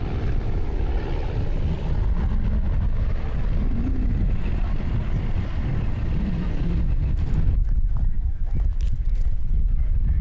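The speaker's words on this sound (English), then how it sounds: "Comes the high speed pass in the glass star. That's got 180 horse engine in it, and Rick and Judy fly that thing" A Glasstar light aircraft with a 180 hp engine makes a high-speed fly-by at a chapter fly-in, its broad engine and propeller roar holding steady, then shifting and thinning as it passes.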